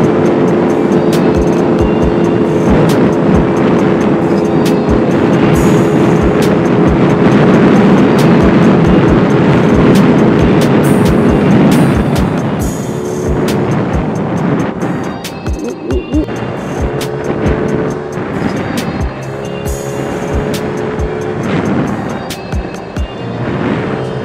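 A $100 Bintelli Breeze 50cc scooter, modified toward 80cc, drones steadily while being ridden, its engine buzz loud and close with wind rushing across the mic, tapering somewhat in the second half.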